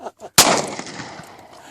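A single sharp .22 rifle shot cracks close by and decays quickly, following a couple of brief voice sounds just before it.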